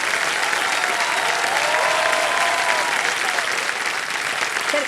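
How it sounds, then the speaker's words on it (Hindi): Sustained, dense applause from a studio audience on a Hindi quiz show set, steady and loud across the whole stretch with no speech over it. "तालियां बजते रहे"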